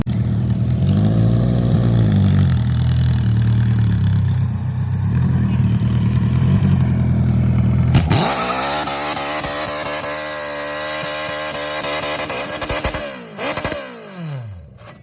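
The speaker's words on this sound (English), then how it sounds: "I'm going to drop it in first, and then while I'm doing the burnout, I'm going to try to shift into second." An MG car engine revs hard through a burnout on dry pavement, a loud sustained roar with a wavering pitch that jumps abruptly midway into a harsher, higher scream before falling and sputtering near the end.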